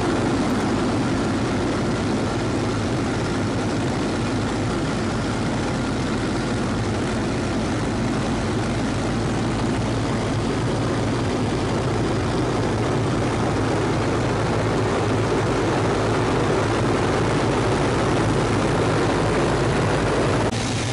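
A Hawker Hurricane's propeller engine drones loudly and steadily in flight at 32 inches and 2150 RPM, a constant rumbling roar with no pauses throughout.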